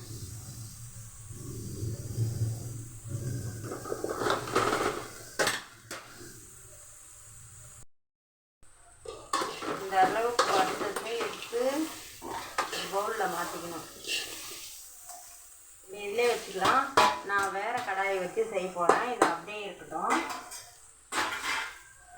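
Bitter gourd and field beans stir-fried in oil in a pan, with a metal spoon scraping and clanking against the pan amid a soft sizzle, while someone talks over much of it.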